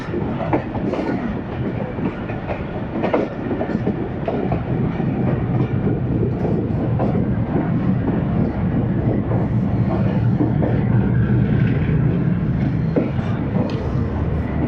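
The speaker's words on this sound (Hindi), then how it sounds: "उससे गुज़रती हुई बहुत ही खूबसूरत ट्रेन" The Khushhal Khan Khattak Express passes Attock Khurd railway station with a loud, continuous rumble and steady clickety-clack of wheels over rail joints, holding close and strong throughout.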